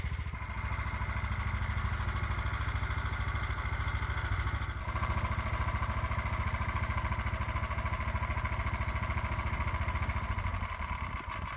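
A 212 cc Predator gasoline engine with a new custom exhaust runs steadily and loudly, a constant rapid putter and clatter from its exhaust that holds without pause.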